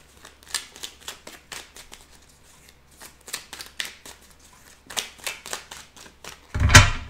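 Tarot cards are shuffled by hand in a run of quick, crisp riffling bursts at close range, separated by brief pauses, ending with a louder knock as the deck is squared.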